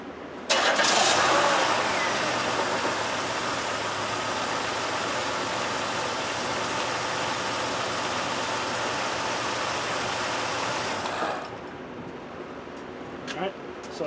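A GM 3.3 V6 car engine cranks and catches, then settles into a steady, loud idle that runs on for about eleven seconds before cutting off, with a few faint knocks afterward.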